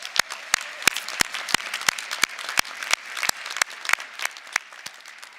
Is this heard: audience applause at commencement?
yes